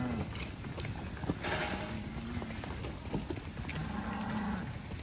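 A cattle herd moves out to new pasture on a farm, with repeated lowing moos rising over a steady bed of shuffling and hoof noise, fairly close and continuous throughout.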